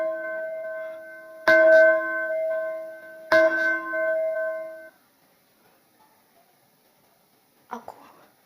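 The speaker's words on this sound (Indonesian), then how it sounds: "Kalian mendengar suara lonceng gereja?" A church bell strikes twice with clear, sustained ringing tones that hang and slowly fade, then silence follows before a brief faint noise at the end.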